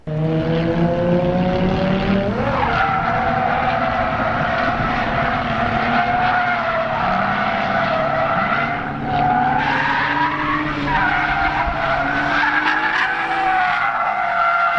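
A car doing figure eights during drift practice, with loud, continuous tyre squeal and a revving engine whose pitch rises and falls as it swings through the turns.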